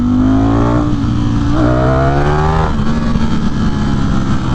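Ducati Streetfighter V4 motorcycle engine heard from the rider's position, loud and close, with several quick rising revs during downshifts, each blip climbing then dropping, over steady wind rush and road noise.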